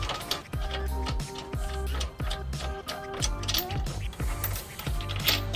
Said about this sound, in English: then we will take our nut and secure it